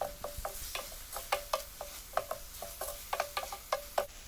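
Pepper chicken curry being stirred in a pan, with a spoon scraping and tapping in quick, irregular strokes over a soft sizzle, close and fairly quiet.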